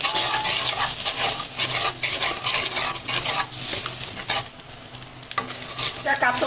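Frying in katla fish oil, with eggplant soon to be added, a loud close sizzle broken by repeated scraping stirs of a spatula against the pan.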